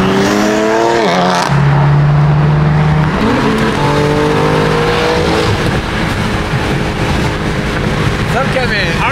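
BMW G80 M3 engine fitted with loud carbon fiber intakes, droning and shifting through gears close by from inside the car, with pitch sweeps as it accelerates; someone talks over it.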